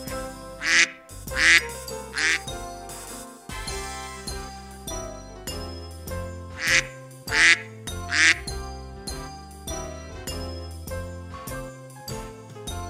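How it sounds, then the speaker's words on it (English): Mallard duck quacks sound in two bursts of three loud, nasal calls each, set over bright, jingly children's music. "mallard."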